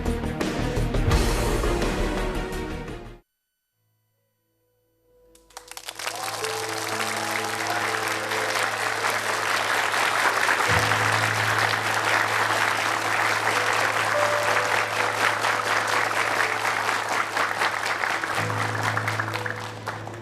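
A television studio audience claps loudly on a talk show, a burst of clapping before a short silence, then a long sustained round of applause with music and a low hum underneath.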